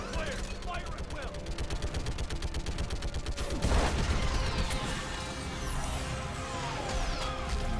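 Dense rapid gunfire and heavy blasts from combat in Mass Effect Legendary Edition, an orbital strike against a live Reaper, with a loud fusillade throughout and a big impact midway, voices shouting over the battle.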